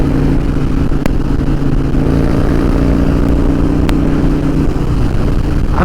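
Harley-Davidson Dyna Wide Glide from 2012 heard while riding, its exhaust a steady low rumble mixed with constant wind roar, loud and continuous throughout with no talking.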